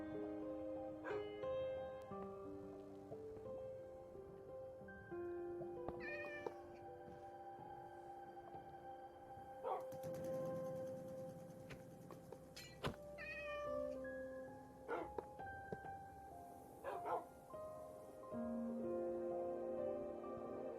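Cats in the Minecraft video game meowing several times in short rising and falling calls, scattered across the stretch over steady background game tones.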